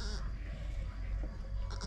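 Sheep bleating on a farm shortly after a lamb's birth, a few short calls over a steady low background rumble.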